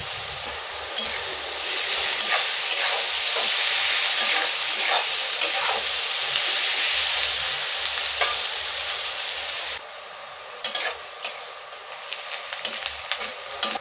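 Crushed garlic, with cloves already added, sizzles steadily in hot oil for an achor chicken dish, a dense continuous frying hiss close by with occasional stirring clinks that thin out toward the end.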